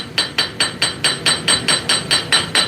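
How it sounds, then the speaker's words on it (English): Hammer blows on hot metal over an anvil during forging, about eleven evenly spaced ringing strikes in a steady rhythm, close and loud with no talking. "Or hammer and anvil."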